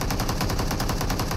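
Rapid automatic gunfire from a mobile battle royale shooter, a fast, even burst of shots running continuously and loud with no talk over it.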